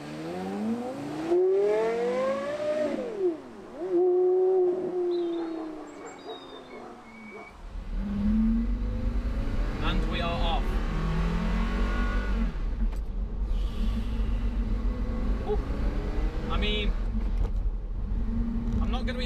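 A Porsche Carrera GT supercar with a lightweight carbon clutch pulls away, its engine note rising and falling in sweeping revs before settling into a loud, steady low rumble as the car gets moving.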